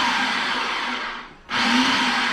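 A blender whipping up garlic spread, a steady loud whir that briefly drops off and then surges back to full speed.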